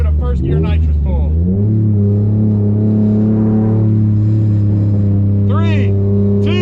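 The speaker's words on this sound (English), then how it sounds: "All right, let's give it a first gear nitrous pull." A Ford Taurus sleeper car makes a first-gear nitrous pull, its engine roaring loud and close as the pitch climbs steadily, then a gear change and a rising whine near the end, with a voice shouting over it.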